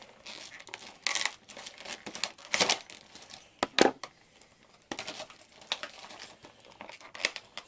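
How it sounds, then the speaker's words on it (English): Scissors cutting and pulling open the plastic and card packaging of a spring-powered Sig P226 airsoft pistol, with irregular crinkling, snipping and tearing bursts close up. "I'm going to use scissors to open it."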